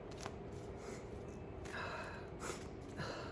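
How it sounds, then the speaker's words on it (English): Sniffing by a person, a few short, close, soft bursts of breath through the nose at irregular intervals over a low steady background. "See, the sniffing starts too."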